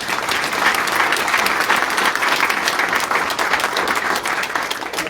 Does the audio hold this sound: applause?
yes